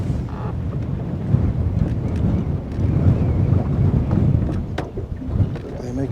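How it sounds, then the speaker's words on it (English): Strong wind buffets the microphone in a steady roar of rumbling gusts, with water faintly lapping beneath. "these are the same wind gusts as yesterday"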